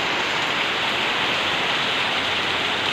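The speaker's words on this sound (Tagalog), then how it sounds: "ipakita ko sa inyo kung gaano kalakas ang ulan dito sa Pasig" Dense, loud, continuous downpour of heavy rain in Pasig, a steady roaring hiss with no pauses or voices.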